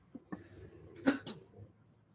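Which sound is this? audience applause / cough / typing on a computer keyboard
cough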